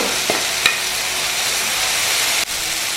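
Onions tossed with ginger and green chilli in hot oil over high heat, a steady close sizzle with scraping stirs and a sharp clack near the end.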